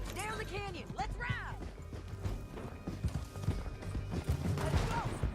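Horse hooves galloping in Red Dead Redemption 2, a steady clip-clop of riding under voices talking and calling out.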